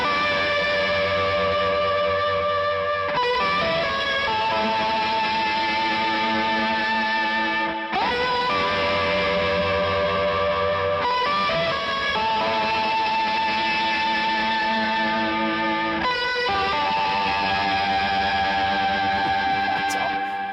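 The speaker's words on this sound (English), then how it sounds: "how about some pitch vibrato with the reverb and both fuzzes?" Electric guitar through an amp with pitch vibrato, reverb and two stacked fuzz pedals plays long sustained, warbling distorted chords, changing roughly every four seconds with washy reverb tails.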